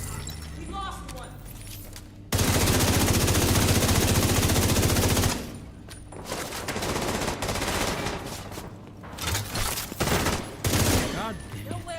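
Video game gunfire erupts in a dense, loud burst of rapid automatic shots lasting about three seconds, then scattered shots, clinks and action noise continue at a lower level.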